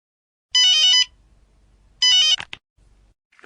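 A telephone rings in two short electronic trilling bursts separated by a pause, loud and close against near silence, with a brief click after the second ring.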